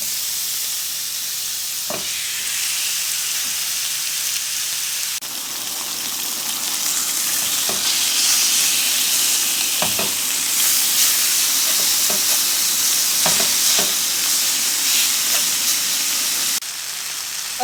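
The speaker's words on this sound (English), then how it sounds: "I'm gonna drop in very little olive oil just so we can get a sear on these ribeyes" Ribeye steaks sear in a little olive oil in a hot pan, giving a loud, steady sizzling hiss with a few soft clicks and shifts, close and unbroken, with no talking.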